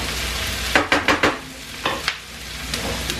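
Sausages fry in a pan with a constant sizzling hiss, punctuated by several sharp scraping knocks as they are stirred and turned.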